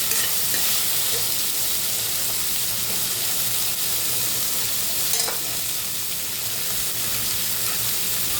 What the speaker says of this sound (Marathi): बीन्स कच्चेच आहे त्याच्यामुळं थोडं 2 ते 3 मिनिटं छान परतून घेऊया